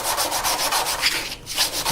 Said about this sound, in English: You just have to keep sanding up through the grits.